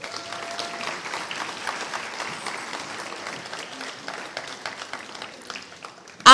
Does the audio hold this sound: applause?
yes